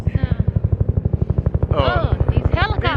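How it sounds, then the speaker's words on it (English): Park helicopters flying low over Washington DC give a loud, rapid, steady rotor thumping that dominates throughout, with people talking over the din in the second half. "These helicopters are so loud."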